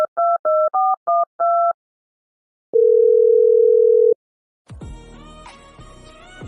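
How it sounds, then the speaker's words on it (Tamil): A cartoon phone call: a quick run of keypad dialing beeps, then a single long steady ringing tone on the line, followed by a louder jumble of background sound. "எவ்வளவு நேரம் ரிங்கு போய்கிட்டே இருக்கு"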